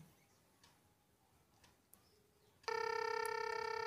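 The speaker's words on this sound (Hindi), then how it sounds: "यहाँ पे देख सकते हैं कि हमारे नंबर पे कॉल आ चुका है" After a near-silent stretch, a clone Apple Watch Series 9 smartwatch suddenly sounds a loud, steady electronic ringtone for an incoming phone call, continuing to the end.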